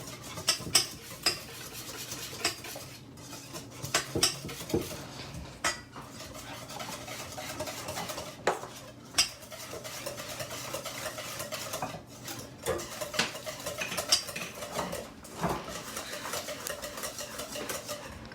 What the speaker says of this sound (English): and then you just mix everything up